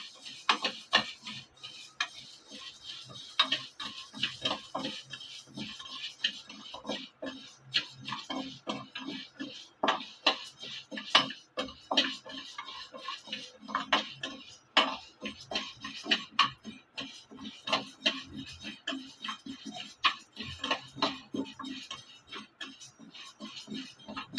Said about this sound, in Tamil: இதில் வந்து நம்ம ஒரு கப்பு துவரம் பருப்பு போட்டு ஃப்ரை பண்ணிக்கலாம்